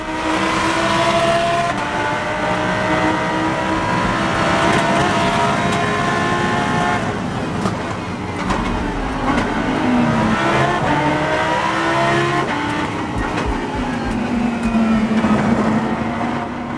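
An IMSA race car drives hard at Laguna Seca, its engine screaming loudly and continuously up close, pitch rising and falling through gear changes and corners, with no talking.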